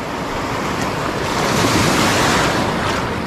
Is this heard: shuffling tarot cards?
no